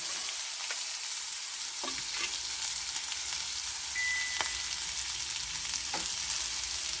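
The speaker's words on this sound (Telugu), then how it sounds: "కొంచెం మెంతులు ఇది వేగాక కొద్దిగా దోరగా వేగాక" Fenugreek seeds frying in hot oil for a tamarind curry with colocasia, a steady soft sizzle with light crackles and a few stirring scrapes, close and even throughout.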